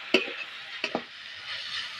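A spatula scrapes through sizzling vegetables, including carrots, in a few quick strokes, the steady frying hiss continuing between them.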